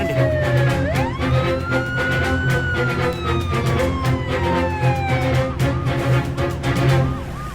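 An ambulance siren wails loudly and continuously, its pitch sweeping up and falling slowly, close by over a low rumble of traffic, with no talk.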